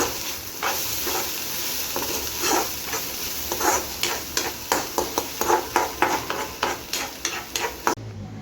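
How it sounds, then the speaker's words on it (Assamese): Cabbage is stir-fried in a pan, a steady sizzle broken by a quick run of rhythmic scraping and tapping strokes from the spatula. The strokes speed up toward the end, and nobody speaks. "এতিয়া বন্ধাকবি দি ভাজি অকণমান দি দিছোঁ।"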